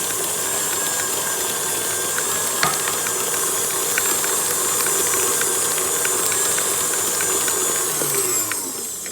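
An electric mixer whirs steadily as it whips cream for a coconut and tonka bean Kinder-style cake, a constant high mechanical hum with faint rattling ticks, winding down at the very end.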